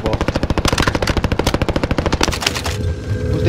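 Rapid automatic rifle fire from an M4A1 in the Warzone video game rattles out in a long, loud, evenly spaced burst before tapering into quieter background noise.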